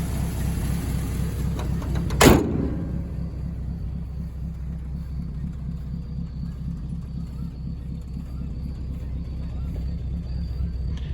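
A 1951 Packard 300 sedan's 327 straight-eight engine idles with a low, smooth, steady rumble, preceded by a brief sharp thump near the start.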